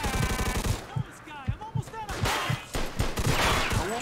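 Rapid gunfire from Mafia 2 in close, loud bursts of repeated shots that run through nearly the whole stretch, with a voice briefly heard amid the shooting.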